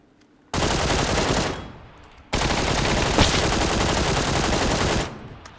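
A full magazine emptied in PUBG, two long unbroken bursts of rapid automatic fire separated by a brief pause, loud and close with no talking.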